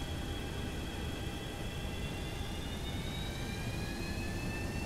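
Jet engines of a FlyJSim 737-200 airliner taxiing in the X-Plane flight simulator, a steady loud broadband roar with whining tones that slowly rise in pitch, continuous throughout with no talking.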